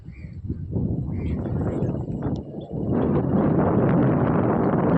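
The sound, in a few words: cool breeze blowing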